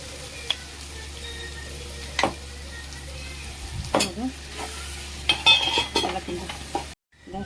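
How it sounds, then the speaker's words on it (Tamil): Onions frying for prawn thokku in a pan give a low, steady sizzle, punctuated by several scraping stirs and clinks of a spoon against the pan, close up, with no speech before a sudden cutoff. "நல்லா வதக்கி விடுவோம் மூடி வச்சு வதக்கி விடுவோம் நல்லா வதங்கட்டு"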